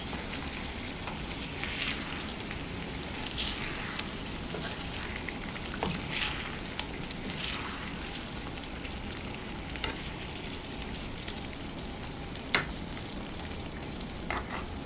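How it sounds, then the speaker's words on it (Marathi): A pot of green chili and pea eggplant curry (khar vang) simmers with a soft, faint sizzle. A spoon stirs it with scattered light scrapes and clinks, heard up close in a quiet kitchen. "आता एकदा मी ह्याला ढवळून घेणार आहे"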